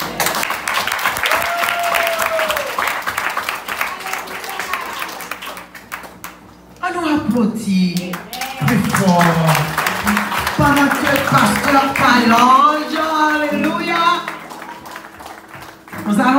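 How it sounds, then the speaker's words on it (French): Congregation applause at a Sunday church anniversary celebration for a Christian radio station, a steady wash of clapping that dips midway then swells again, with singing or voices rising over it. "On vous demande d'applaudir, s'il vous plaît, un peu plus fort."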